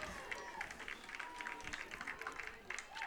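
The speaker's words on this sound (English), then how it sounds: "you hear the Dyersburg crowd clapping" Spectators at a Dyersburg softball game clap from the stands, a soft, scattered patter of applause heard at a distance under a commentator's talk.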